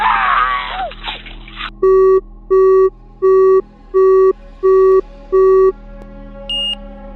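A phone line on a 911 call goes dead, leaving six evenly spaced electronic beeps in a steady rhythm, loud and clear, after a brief burst of muffled noise.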